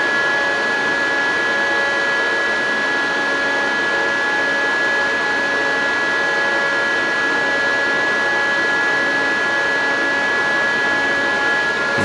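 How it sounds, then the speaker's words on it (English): A Butterfly Labs 50Gh/s ASIC bitcoin miner runs with its intake fan facing the listener, giving a loud, steady whooshing roar with a constant whine that holds unchanged throughout, and no talking. "now you can listen to it when the induction fan is pointed towards you"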